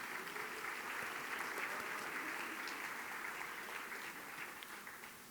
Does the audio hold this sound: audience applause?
yes